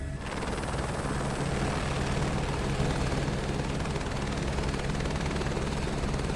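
A helicopter hovers over Paris in Microsoft Flight Simulator 2024, a loud, steady rotor and engine drone with a rapid blade chop. The sound runs unbroken throughout with no talk.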